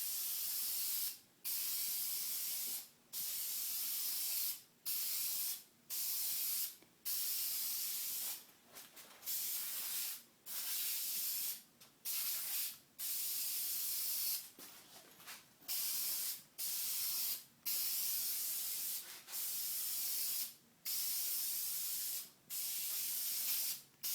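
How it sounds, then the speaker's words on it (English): An aerosol spray can paints a 1970 Mustang floor console in a long series of hissing bursts, each lasting one to two seconds and separated by brief pauses, steady and close with no voices. "You want to spray at least anywhere between, I would say, 4 to 6 inches away from the console, and go in long sprays all the way down."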